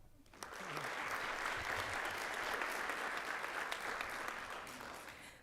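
Applause from an audience at a school board meeting: a full, steady burst of clapping starts abruptly and holds evenly, then begins to fade at the end, with no talk over it.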